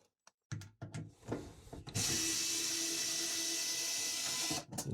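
HOTO PixelDrive cordless electric screwdriver backing out factory-tight deck screws, a few knocks and scrapes followed by a steady, close whirring motor run that stops abruptly.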